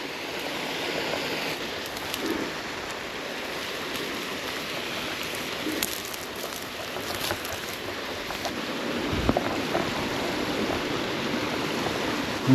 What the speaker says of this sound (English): It's on top of that waterfall.